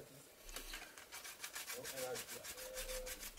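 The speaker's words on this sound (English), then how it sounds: "you know I hate sanding" Rhythmic back-and-forth rasping of sanding a model vehicle, a steady series of broadband strokes about three per second, close and moderately loud, with no talking.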